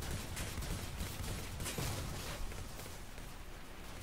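Turret gunfire in the space combat game Star Conflict, a dense, continuous fusillade of rapid shots and crackling blasts, loud and steady throughout.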